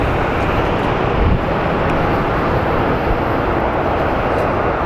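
A large airplane arriving at Phoenix Sky Harbor Airport, a loud continuous engine roar with broadband rushing noise that holds steady and close throughout.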